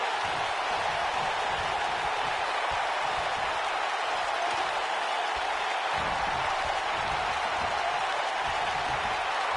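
Arena crowd in the WWE 2K19 wrestling game, a steady wall of cheering and roaring that holds at an even level throughout, with no voices standing out.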